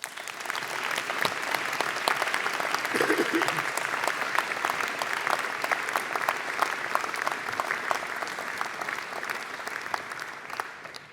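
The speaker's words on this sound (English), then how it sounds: "Can we give them a round of applause, please?" Sustained applause from a large school assembly crowd in a hall, a steady dense wash of clapping lasting the whole stretch without letting up.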